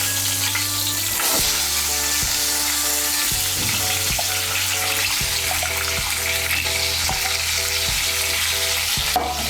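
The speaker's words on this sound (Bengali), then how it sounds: "এই তেলের মধ্যে আমি আলুগুলো ভেজে নেব।" Two medium potatoes frying in oil left over from frying katla fish, a loud continuous sizzle with repeated rhythmic scraping of a spatula against the pan, close up and without speech.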